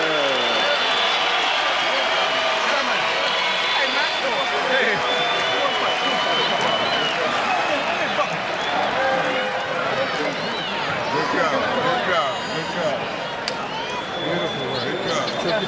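A boxing arena crowd applauds and cheers after Floyd Mayweather's knockout win over Sharmba Mitchell, sustained clapping and crowd noise from a modest audience, with a commentator's voice talking over it.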